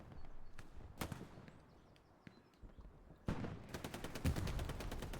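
Long-range machine gun in an online war video game, sparse distant single shots early, then a sustained rapid burst of automatic fire growing louder near the end, no talk.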